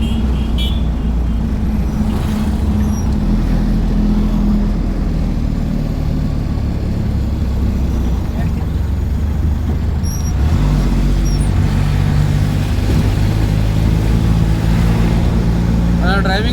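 A vehicle driven along a road near Kondagattu hums with a steady engine drone and road rumble, shifting slightly in pitch midway; a person talks over it.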